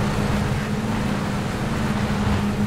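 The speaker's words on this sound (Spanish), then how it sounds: "¡Ojo! Coche por la izquierda o algo, ¿eh?" A car drives nearby in PUBG, giving a steady low engine drone with an even hum that holds at moderate loudness throughout, with no talk over it.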